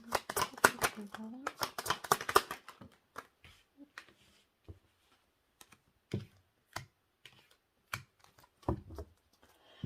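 Tarot cards are shuffled and drawn by hand, giving a burst of quick papery snaps and flicks at first, then sparse, scattered taps and slides. A voice speaks between the card sounds.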